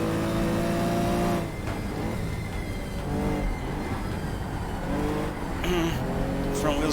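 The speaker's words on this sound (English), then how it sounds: "Front wheels are squealing." Front tires of a Porsche 914-6 squeal under hard cornering in the GTR2 racing game, with the engine droning and revving steadily throughout, close and loud.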